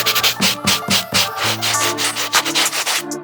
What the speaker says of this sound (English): I'm gonna give this insole a good scrub as well